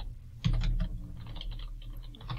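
Quick bursts of key presses on a computer keyboard, a short cluster of close, clicky taps followed by scattered lighter keystrokes, with no voices.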